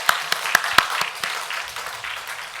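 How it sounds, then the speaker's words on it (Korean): Church congregation clapping in a worship service, a short burst of scattered claps, sharp and fairly close at first, thinning out and fading within a couple of seconds. "우리 격려의 박수 한 번만 해주시면 감사하겠습니다"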